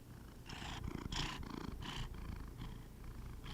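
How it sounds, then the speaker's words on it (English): A low, rumbling cat purr runs steadily throughout, close and continuous, with soft rhythmic pulses as the breathing cycles in and out. "Listen to the purrs. Give them the purrs."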